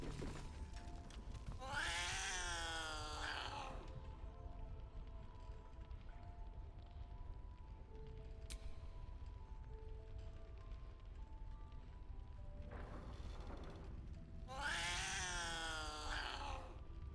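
Cat in the video game Baldur's Gate 3 gives two long, loud, wavering meows several seconds apart, with a steady low purr and ambient game hum running beneath throughout.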